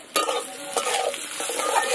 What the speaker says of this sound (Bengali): শুধু লবণ দিয়ে আলুটা আগে ভেজে নেব।